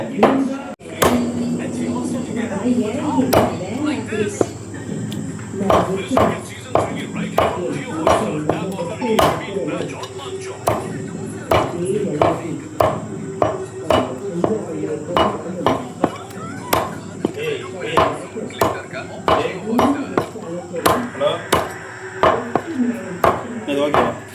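Onions are chopped on a board with a brisk knife, giving a long run of sharp, fairly regular thwacks close by, while people talk and chatter throughout.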